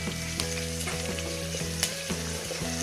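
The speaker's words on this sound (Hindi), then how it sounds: "प्याज पकना शुरू हो गया, थोड़ा सा नरम हो जाएगा तो इसमें लहसुन और टमाटर शामिल कर दें।" Onions fry in a pan with garlic added, giving a steady crackling sizzle underneath a sustained musical tone, with short stirring scrapes and one sharp pop.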